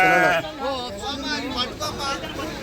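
Sheep bleating at a busy weekly sheep market in Macherla, with wavering bleats close by over a background of crowd chatter and voices.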